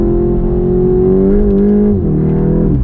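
A VW Golf GTI Clubsport 45 Edition takes a corner with a loud, close, sustained engine drone whose pitch drops and settles partway through, with no talking over it.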